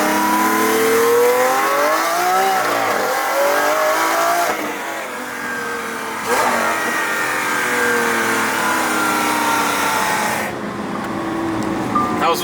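Lamborghini Aventador engine revving hard on a road test drive after an axle repair, a loud close roar that rises and falls through several gear pulls, with wind noise and occasional talk underneath.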